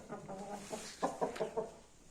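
A Japanese-breed rooster (Yaponskiy o'shamo) clucks and croaks in a run of short, harmonic bursts, fairly close and moderately loud, with no voices.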